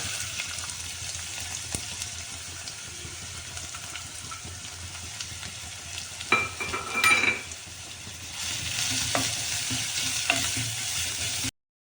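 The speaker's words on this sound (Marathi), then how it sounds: "कांदा अगदी सोनेरी कलर झालेला आहे बघा छान तळला गेला आहे कांदा" Onions fry in a pan for lasuni methi, a steady close sizzle running throughout with a few brief scraping stirs near the middle and a louder spell toward the end.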